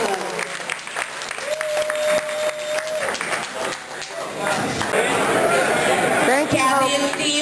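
Applause breaks out at a Shamrock dinner for a patient advocacy team, dense clapping mixed with crowd chatter and voices talking throughout, growing fuller toward the end.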